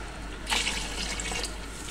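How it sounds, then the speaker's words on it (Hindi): A glass of water poured into a mutton pulao pot already holding stock: a short, close, bright splash and gush rising suddenly and running steadily to the end, no talking. "और 1 गिलास आपने पानी डाल देना है इसके अंदर साथ"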